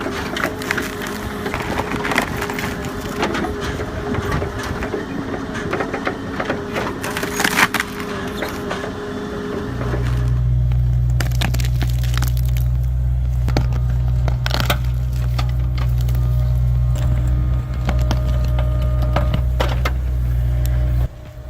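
A hydraulic machine pulling a tree stump from the ground in the woods, with wood cracking and splintering loudly at first, then giving way to a steady, loud, low hydraulic drone that holds to the end.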